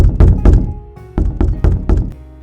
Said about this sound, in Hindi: खटखटाया।